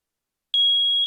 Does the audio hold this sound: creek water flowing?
no